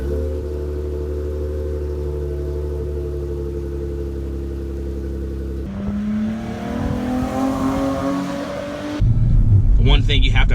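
A V6 car fitted with a Flowmaster exhaust rumbles steadily at idle, then revs with a rising engine note and finishes on a louder, harsher burst, close and loud with no talking.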